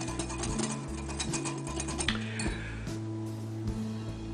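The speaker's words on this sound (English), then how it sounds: "we're going to whisk this together, or you can sift it" A whisk stirs flour, baking soda and salt together in a bowl, making quick, light clinking taps against the sides in an uneven, rapid rhythm at close range.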